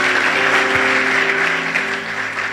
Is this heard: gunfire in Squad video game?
no